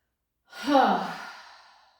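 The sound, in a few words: exhaling breath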